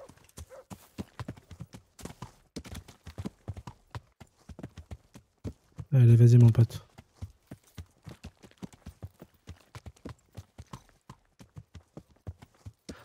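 Horse hooves clip-clop steadily through a medieval setting in Kingdom Come Deliverance, with a brief loud whinny midway while someone speaks encouragingly over the galloping.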